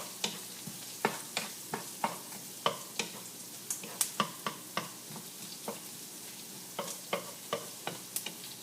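Chopped onion cooking in a frying pan, a soft sizzle under repeated clicks and scrapes of stirring, close and fairly quiet, with no voices.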